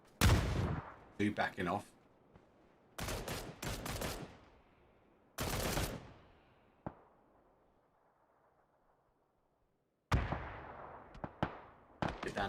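Rifle fire and grenade blasts from a Groza in a PUBG esports match, sharp bursts of shots and booming explosions with a long decaying tail, while a commentator talks between them.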